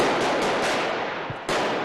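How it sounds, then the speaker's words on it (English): Gunfire breaks out during a police raid in Brussels: a rapid burst of sharp cracks fired close together, a brief pause, then another loud report, with no talk over it. "Gunfire as police moved in."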